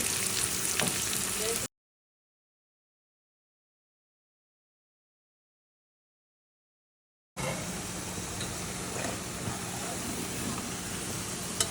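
Onions frying in a pan with ginger and garlic for a meat kofta curry, a steady close sizzle that breaks off into silence partway through, then comes back just as loud.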